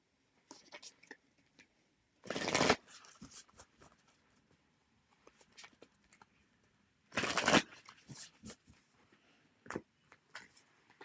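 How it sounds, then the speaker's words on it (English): Tarot cards are shuffled and handled during a live reading, giving two short bursts of brisk riffling with scattered soft taps and paper rustles in a quiet room. "Pedro, let's get you another card"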